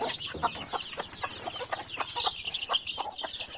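Chicks and hens in a pen cluck and peep continuously while being fed, a busy mix of close, overlapping bird calls with no talking.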